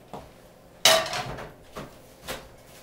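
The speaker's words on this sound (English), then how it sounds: "just get a non-stick skillet. I'm gonna make sure it's nice and clean" A non-stick skillet being picked up and set down, a sharp metallic clank followed by a few softer knocks and rattles, close and with no talk.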